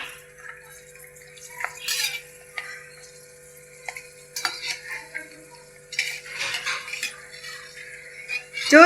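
Stuffed green chillies fry in hot oil in a pan with an intermittent crackling sizzle, mixed with several sharp clinks and scrapes of a utensil against the pan and no talking.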